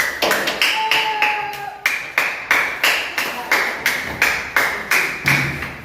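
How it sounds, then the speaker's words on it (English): Audience claps for a group of presenters at the end of their audiovisual project, coming as a steady series of sharp, evenly spaced hand claps, close and fairly loud, rhythmic like slow unison clapping. "Clap for them, please."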